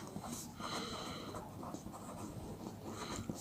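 Pen strokes scratch across paper as a maths proof on cube roots of unity is written out, close and faint, in short irregular bursts with soft breathing between.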